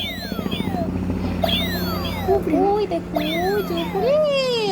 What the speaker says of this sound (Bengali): দেখো আমাদের এই দিক দিয়ে শুধু হেলিকপ্টার যায় বুঝছো